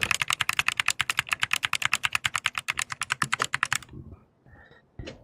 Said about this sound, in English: another keyboard I have, actually it's a 10 key, where you have just the numpad on it